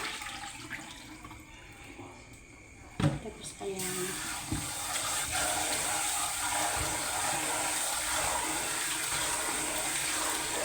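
Water runs steadily from a newly replaced household faucet, a continuous hiss after a short knock or clunk, with a brief spoken phrase early on.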